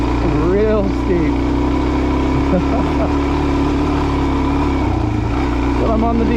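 A DRZ dual-sport motorcycle climbs a steep dirt trail in the Idaho backcountry, its engine droning loud and close with rising and falling revs throughout.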